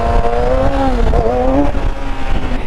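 A Yamaha R6 motorcycle revving hard during a wheelie, a loud close engine whine rising and falling in pitch over a couple of seconds, with no voices.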